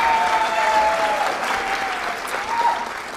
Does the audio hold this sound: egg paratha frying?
no